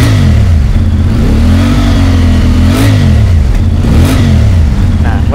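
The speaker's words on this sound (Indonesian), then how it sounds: "saya coba akan agak ngegas sedikit" A CF Moto MT450 twin-cylinder motorcycle engine revs up and down in a few throttle blips over a steady idle, loud and close, no voices.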